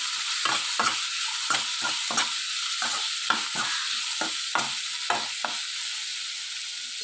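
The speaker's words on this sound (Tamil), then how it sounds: "இப்போ அடுப்பை சிம்மில் வச்சுட்டு இதை நல்லா ஓரளவு ஃப்ரை பண்ணலாம்." Raw mango pieces frying on a low flame, a steady close sizzle with repeated scraping stirs of a spoon against the pan, alone with no talk.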